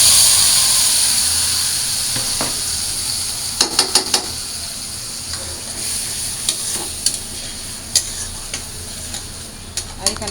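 Onion paste dropped into hot oil with cumin seeds in a pan, giving a loud hissing sizzle that slowly fades, broken by sharp spatula scrapes and clinks against the pan.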